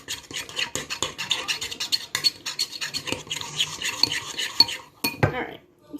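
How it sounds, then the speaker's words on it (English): Spoon scraping and stirring through thick eclair dough with butter in a pot, a busy run of close clinks and scratchy strokes that pauses briefly near the end. "Just keep stirring until everything is completely mixed."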